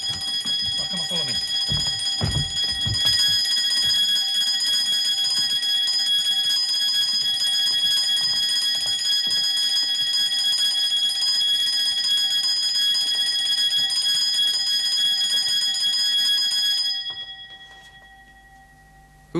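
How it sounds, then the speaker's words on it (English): A security alarm bell rings continuously and loudly for around seventeen seconds, with brief muffled voices and thuds early on, then cuts off abruptly and leaves near silence. "It's only the primary alarm."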